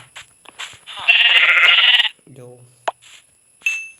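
Minecraft sheep bleating: one loud, wavering bleat lasting about a second, close and clear, surrounded by short clicks, blips and other game sounds.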